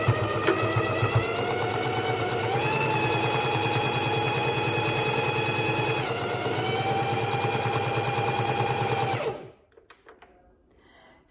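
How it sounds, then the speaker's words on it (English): A sewing machine runs a steady straight stitch around a garment hem with neutral cotton thread, a loud continuous motor whir with rapid needle chatter for about nine seconds before stopping abruptly. "I'm going to straight stitch them all the way around with a neutral cotton and starting from the inside leg"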